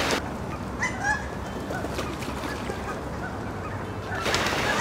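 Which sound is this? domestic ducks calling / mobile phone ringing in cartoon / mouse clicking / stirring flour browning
domestic ducks calling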